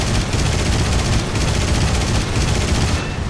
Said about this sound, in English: And we shoot him down.